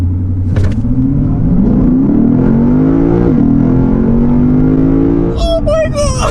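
A Lexus RC F V8 with traction control switched off revs hard. Its engine note climbs steadily in pitch under a steady rumble, then rises sharply near the end as the revs peak, with a brief burst of noise early on.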